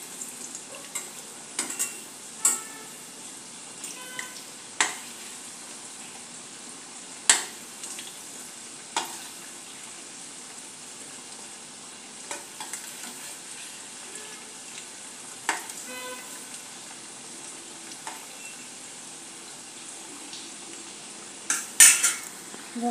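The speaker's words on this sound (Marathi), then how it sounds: "बघू शकता आपण आपली भजी तळत आहेत." Corn bhajiya fritters fry in a pan of hot oil, giving a faint, steady sizzle broken by sharp clinks and taps of a metal utensil against the pan at irregular moments.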